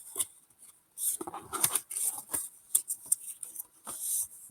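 Card paper being folded by hand, with crisp creasing, rubbing and rustling bursts in an uneven rhythm, close and moderately quiet, no voices.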